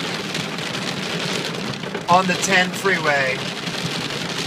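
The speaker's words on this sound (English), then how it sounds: "Guys, we are in hail right now. This is a hailstorm." Hail pelts a 2001 Mustang Cobra SVT driving on a freeway in a storm, a dense, steady clatter on the car body with someone talking over it.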